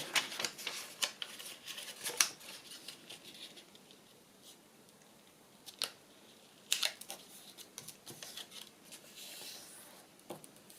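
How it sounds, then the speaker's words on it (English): Paper being creased and folded at a corner for a pocket craft, heard as soft crinkles, taps and sharp scratchy swipes scattered close to the microphone, fairly quiet with no talking. "I've got to take this corner and fold it in"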